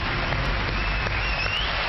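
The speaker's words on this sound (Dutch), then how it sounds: "Applaus." An audience gives steady, dense clapping during a TV show. The applause sounds like close, even hiss-like patter throughout, with no voices over it.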